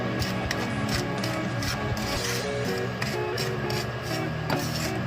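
Semolina dry roasts in a pan over a low flame, a steady dry scraping and rustling texture, close and continuous, with no voices.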